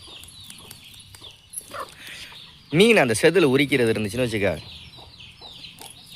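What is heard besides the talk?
chicken clucking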